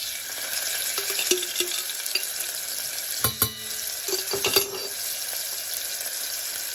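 Garlic fries in a spoonful of oil in a small pot while Alexandrian koshari sauce is made. It gives a steady close sizzle and crackle, with a few clinks of stirring at intervals and no talk.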